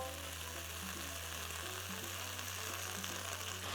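Shrimp heads, shells and lobster legs sizzle in hot oil for a stock. The frying is a steady, fairly quiet hiss under a low continuous hum.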